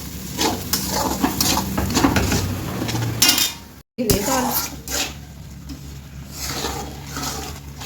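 Pav bhaji with garam masala is stirred in a pan on a home stove, a spoon clattering and scraping against the metal in irregular knocks, with someone talking over it.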